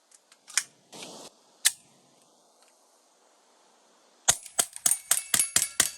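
A Glock 44 .22 LR pistol fires subsonic rounds during a test: a rapid string of about eight sharp, close cracks, preceded by a few scattered clicks and handling noises.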